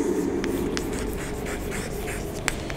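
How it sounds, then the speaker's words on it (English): Pencil writing on paper: close, steady scratchy strokes with short taps and pauses, moderately loud, from a science lesson where children copy sentences into their books. "Write in the lines"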